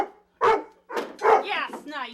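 A detection dog barks during odor search training, a few close, sharp barks and yips in quick succession mixed with whining, heard fairly loud with little else around.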